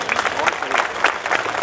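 Audience applause at a school celebration event in Dhrangadhra, a quick burst of uneven hand claps from a crowd with a voice talking over it, short and moderately loud.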